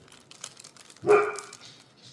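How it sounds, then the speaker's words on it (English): A golden retriever gives one loud bark up close, followed by quieter yips and faint rustling. "I'm sorry about the barking of my dogs."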